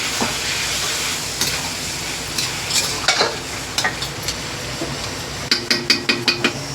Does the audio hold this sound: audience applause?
no